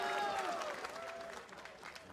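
Arena crowd at an esports League of Legends match between Team SoloMid and 100 Thieves, a steady wash of cheering and applause that holds loud throughout, with no single voice standing out.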